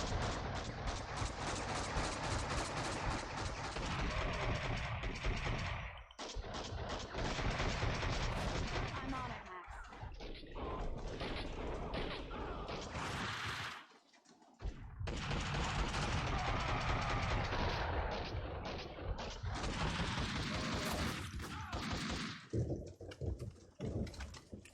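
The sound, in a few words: gunfire from the video game Max Payne 2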